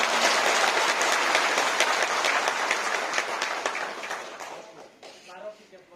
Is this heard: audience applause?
yes